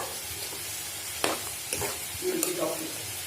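Coconut paste is stirred into a pot of mashed pumpkin and bean erissery, soft scraping and scattered spoon clicks over a faint simmering hiss, close and quiet with no talking.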